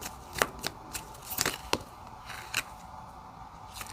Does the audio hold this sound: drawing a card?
yes